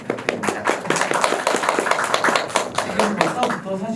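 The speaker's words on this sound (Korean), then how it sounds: "박수 한번 부탁드립니다." A film screening audience at a cinema Q&A with the director and cast claps in a sparse, uneven patter of individual hands, close and distinct, with a few voices murmuring underneath.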